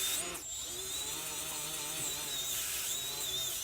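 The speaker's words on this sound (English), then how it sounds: "with a roll-lock disc and clean up the rest of it." A roll-lock abrasive disc on a spinning tool cleans the mating face of a vehicle's differential cover, producing a steady high-pitched whine whose pitch wavers as the disc loads and eases off the metal, fairly quiet and continuous.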